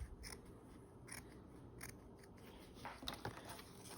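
Scissors snipping through doll dress fabric in a steady series of quiet crisp cuts, faint and close, with no talking.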